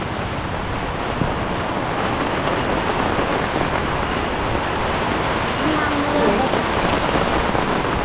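Heavy rain pours steadily and loudly throughout, a dense, unbroken wash of drops with no pauses, close and enveloping, during a flood-stricken rainy spell.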